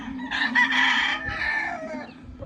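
A sweater gamefowl rooster, a champion fighting cock on a farm, gives one full, loud crow close by, with a short trailing note at the end.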